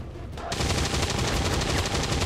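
Dense, sustained gunfire from the XCOM video game bursts in after a brief quiet moment, a loud, continuous rattle of rapid shots filling the rest of the stretch.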